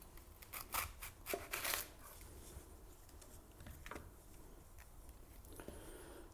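A knife cuts into half a fennel bulb, trimming out the core for a fennel salad, giving a few sharp crisp slicing crunches early on, then quieter scraping and handling.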